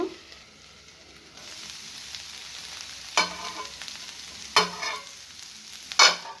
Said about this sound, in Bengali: পেঁয়াজ করি আলু এর মধ্যে চাপিয়ে দিলাম আর একটু গরম হয়ে গেলেই এটা নাড়াচাড়া করে দেব